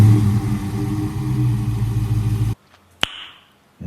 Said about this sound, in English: why don't we hear this thing start up